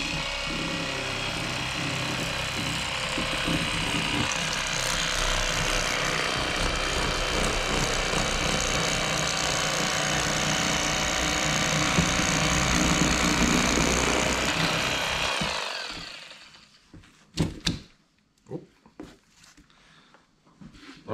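A Bubba lithium-ion cordless electric fillet knife with an E-Flex blade runs steadily while filleting fish, a continuous motor whine that cuts off after about fifteen seconds, followed by a few handling knocks and thuds.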